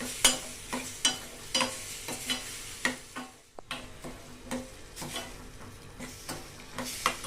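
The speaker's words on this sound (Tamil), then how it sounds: "நல்ல ஒரு ரெண்டு நிமிஷம் ஸ்லோ ஃப்ளேமில் வச்சு நெய் விட்டு நம்ம நல்லா வந்து வதக்கிக்கலாம்" Soft sizzling of frying in ghee over a slow flame, with regular scraping and tapping of a spoon stirring, a quiet steady rhythm of strokes over the frying hiss.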